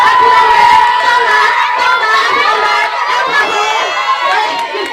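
Crowd noise of cheering and shouting voices, children among them, greeting a performer's arrival at a 2007 Douala show, loud and continuous for the full stretch with excited overlapping calls.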